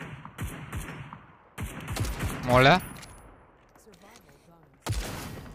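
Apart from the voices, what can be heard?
gunfire in Super People video game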